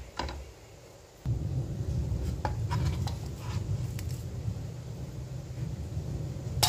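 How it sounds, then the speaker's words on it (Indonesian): A knife cutting a block of palm sugar into pieces, heard as steady, close scraping and chopping strokes that begin after a short quiet moment. "Ini gula merahnya saya potong, saya iris-iris ataupun saya potong-potong ya."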